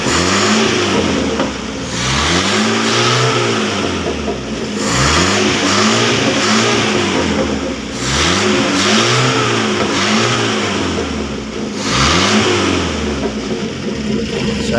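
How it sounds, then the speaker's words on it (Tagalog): A car engine revs hard after a carburetor repair, swelling and falling in four strong, loud, even throttle bursts close by, with a steady idle between them and no voices. "napaka-puwersa na po ng makina. Hindi na siya nanginginig."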